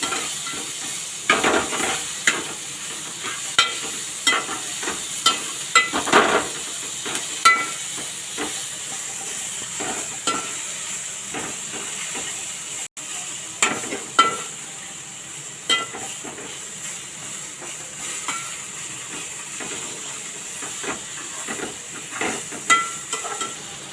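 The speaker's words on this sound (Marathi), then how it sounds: "परतून घेऊया" Turmeric, chilli powder and asafoetida sautéed in a pan while making tempered fried rice, with a steady background sizzle and frequent short scraping stirs of a spoon, close by and without talk.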